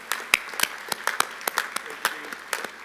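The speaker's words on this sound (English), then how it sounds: "will you please give him a rousing round of applause?" Audience applause at a Florida Governor's Dinner in Okaloosa County, a short burst of scattered, uneven hand claps from a moderate crowd in a banquet room, steady for about three seconds.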